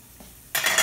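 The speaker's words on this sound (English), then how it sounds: "I got my water boiling" Water comes to a rolling boil in a pot for cooking pasta elbows. Quiet at first, then a sudden loud burst of bubbling hiss fills the second half.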